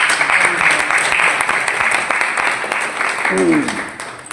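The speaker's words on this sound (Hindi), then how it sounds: "अब जोर से ताली बजाए प्रभु के लिए" A church congregation claps for the Lord during a Hindi-language Punjabi church service, a steady wash of applause lasting throughout, with a voice speaking briefly near the end.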